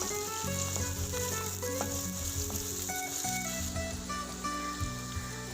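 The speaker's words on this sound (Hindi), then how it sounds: "हरी प्याज, इसे भी 2 मिनट के लिए फ्राई करूँगी।" Green onions go into hot oil with roasted cumin and fry with a close, steady sizzle and crackle, with some stirring under it; no talk.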